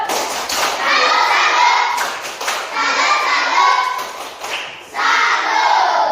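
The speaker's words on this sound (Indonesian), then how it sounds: "Tepuk tangan untuk kelompok 2." A group in a school coaching session claps for group 2, a loud burst of applause with thuds and children's voices talking and shouting over it, pausing briefly before resuming.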